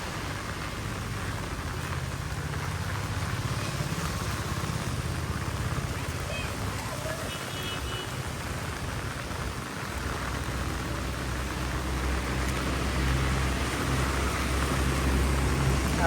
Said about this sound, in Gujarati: તો આવો વરસાદ છે અમારા ગામમાં, અમારા બોડેલીમાં.